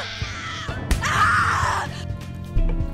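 A female character shrieks in the horror game The Cat Lady, one drawn-out high scream lasting about a second, loud and close, framed by short game noises.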